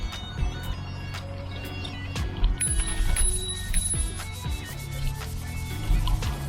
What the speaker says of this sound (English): So today, testing a bell I bought. A very small bell.